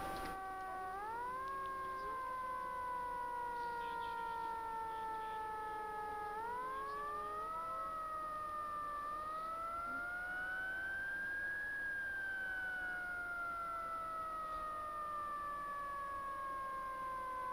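Fire engine siren in a Roblox roleplay game, wailing steadily while the engine is en route to a house fire, its pitch rising and falling in long sweeps, loud and continuous with no talk.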